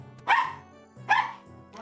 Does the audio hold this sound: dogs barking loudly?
yes